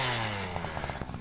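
A motorized ice auger drilling a series of holes on a frozen lake, its small engine droning loudly close by with a rapid sputtering rhythm, in one short burst with no voices.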